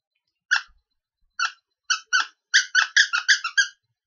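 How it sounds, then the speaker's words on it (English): A squeaky meat-shaped dog toy is squeezed in a series of sharp, close squeaks, a few spaced out at first and then a quick run of rapid squeezes, with no talking. "It's a squeaky dog toy."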